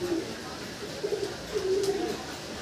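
Satin pigeons, a male and a blue female, coo softly at close range, low repeated coos rising over a steady background hiss.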